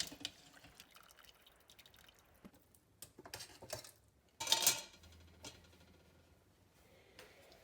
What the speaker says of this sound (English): And then I strain out all the solids.